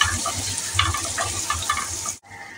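Ginger sizzles in hot oil in a pan, a steady crackling fry with bursts of spattering and stirring, close and loud, cutting off abruptly near the end.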